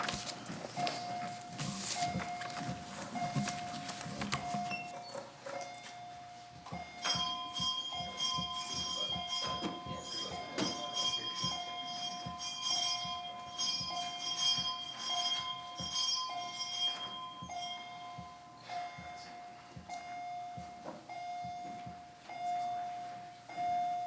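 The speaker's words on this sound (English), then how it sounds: "Sergeant at Arms, you may ring the bell." An electric division bell rings steadily through a legislative chamber, summoning members for a standing vote, with a continuous metallic ringing tone running throughout amid faint shuffling and footsteps.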